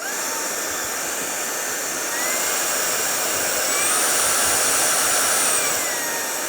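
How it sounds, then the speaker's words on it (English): An AlloyMove A03 cordless stick vacuum cleaner runs with a steady, loud whirring motor and high whine, pitch rising slightly partway through, with no talking. "So pretty straight up vacuum cleaner, little noisy, but no big deal."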